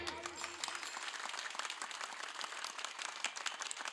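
Fairly quiet applause from a kirtan audience in Tandulwadi, a steady patter of many hands clapping throughout, with a faint voice at the very beginning.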